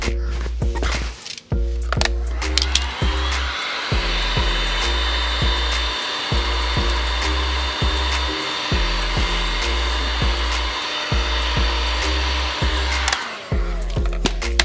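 A heat gun blows a steady, loud airy roar, close by, while warming vinyl wrap on a car fender, with scattered taps and handling clicks, and the hum briefly cutting out at the start and end.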